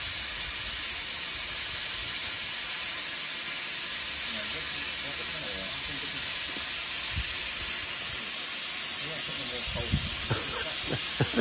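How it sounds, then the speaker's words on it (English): A steam engine blows off steam in a loud, steady hiss that fills the whole stretch, while people talk nearby. "With any luck in a minute, he should blow its steam off."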